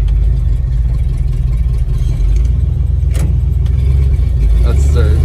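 A 1971 dump truck's engine drones loud and steady from inside the cab while gears are shifted, with a constant low rumble and a brief mechanical clunk midway.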